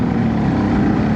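A Suzuki DRZ 400SM motorcycle engine roars loud and close in a brief, steady, droning burst.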